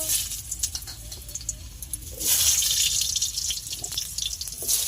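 Potatoes go into hot oil in a wok for a cabbage dish, and a bright, hissing sizzle rises partway through and keeps going close up over faint dripping and clatter, with no talking.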